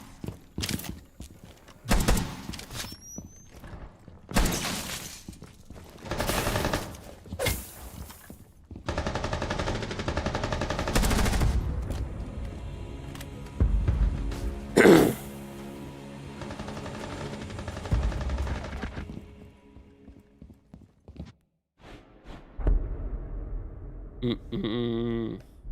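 Rainbow Six Siege gunfire, including a wallbang shot, comes in repeated loud bursts and single cracks, with thuds, movement and other game noises in between, no talking.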